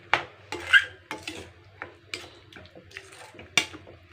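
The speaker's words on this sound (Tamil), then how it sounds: "இப்போ இதை நல்லா நம்ம கிண்டி விட்டுக்கலாம்." A spoon scrapes and knocks against a pot while stirring ivy gourd aviyal with water, giving a series of uneven close clinks and rubs spaced about half a second apart.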